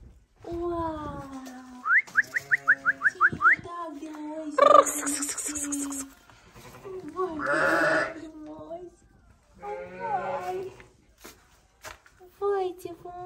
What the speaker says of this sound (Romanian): să audă oile și mielușei